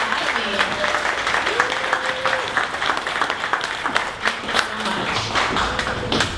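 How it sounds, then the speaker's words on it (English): An audience at a 1 Million Cups Dallas startup pitch event gives a sustained round of applause, dense clapping filling the room for the whole stretch with a few voices calling out over it. "one more round of applause for Altus for the Academy"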